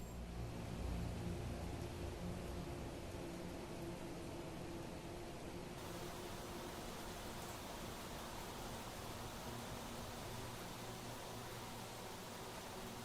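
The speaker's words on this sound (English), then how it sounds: "Heavy rain." Heavy rain in the video game Planet Crafter pours as a constant, dense hiss with no letup, filling the whole stretch evenly with no voices.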